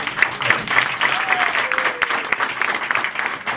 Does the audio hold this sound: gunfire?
no